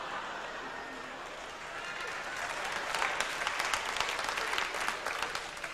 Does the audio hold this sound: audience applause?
yes